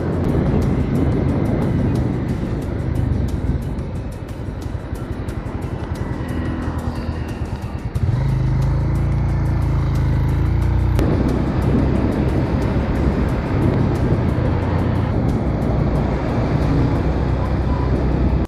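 Steady, loud engine drone and wind rush from a motorcycle riding along an empty, clean road on a Ladakh tour; continuous close roar with a gear-change shift midway, with someone talking over it.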